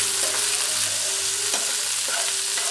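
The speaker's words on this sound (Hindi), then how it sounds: "इनको अच्छी तरह से हिला देते हैं।" Onions and peas frying in a pan while being stirred, a steady close sizzle throughout with light scraping strokes of the spoon recurring every second or so, no talking.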